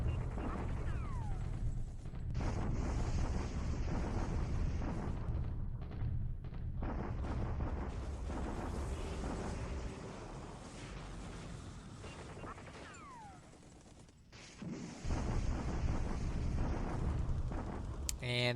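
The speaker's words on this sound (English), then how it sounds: "we start off with the daily bombardment spam at Changsha" Rumbling blasts and bursts from a daily bombardment at Changsha in War in the Pacific, dense and continuous with heavier low booms through most of the stretch and a brief lull near the end.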